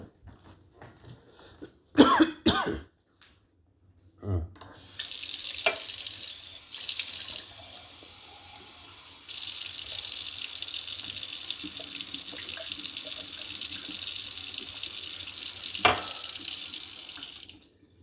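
Water runs steadily from a tap for several long stretches, loud and close, with a cough and throat clearing heard just before it starts.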